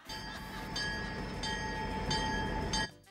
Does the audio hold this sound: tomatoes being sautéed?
no